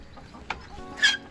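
A pet hen named Betty gives a couple of soft, brief clucks, faint and close, with a sharper squawk-like note near the end and no talk over it.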